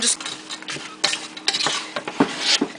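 Close scraping and clinking of a utensil stirring frozen green beans in a pan, with a soft continuous sizzle underneath and irregular knocks.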